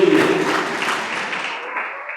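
Congregation applauding during a Friday night church service, a dense burst of hand clapping that starts loud and fades gradually over a couple of seconds.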